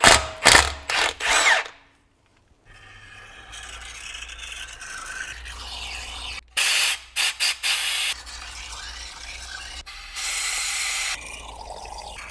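A ratchet and tools work plugs loose from a bare V8 engine block for a supercharged Alpina B7. Loud, clicking bursts of ratcheting come up close, separated by quieter stretches of shop noise.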